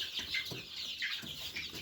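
Chickens and young chicks clucking and peeping in a coop, a steady stream of overlapping soft calls close by, with no talk.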